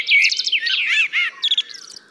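A common blackbird sings close and loud, a rich phrase of warbling and fluting notes followed by short, higher twittering bursts.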